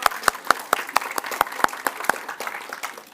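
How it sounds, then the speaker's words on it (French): A church congregation breaks into steady applause at a sermon service, a dense run of sharp claps with a few louder individual hands standing out, fairly close and without speech. "On peut l'applaudir."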